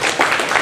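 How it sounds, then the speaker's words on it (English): Audience applause at a book launch on the history of Nairn County FC, a brief steady wash of clapping with no talk over it. "So I think we can give them a big round of applause."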